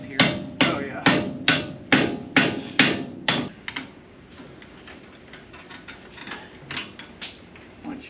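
Hammer blows ring out on metal on an old truck's front suspension during ball joint and tie rod work, about eight sharp strikes in a steady rhythm, followed by softer, quicker taps at a lower level.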